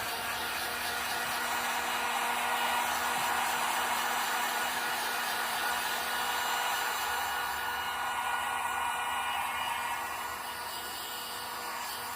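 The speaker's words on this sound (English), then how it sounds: "So I'm going to heat set this because I had that gold thinned out pretty good." A heat tool runs steadily, heat-setting thinned gold paint, its airflow a continuous close, loud whoosh with a constant hum that eases slightly toward the end, no voices.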